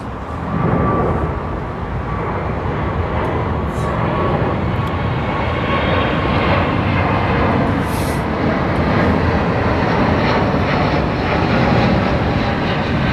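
Airbus airliner engines at London Heathrow Airport give a loud, steady jet roar with broadband rumble and hiss. The sound holds without letup, and no voices are heard.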